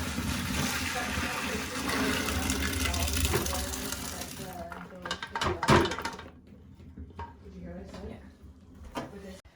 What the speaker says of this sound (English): So now we have to put the dal and strain out all the water from it.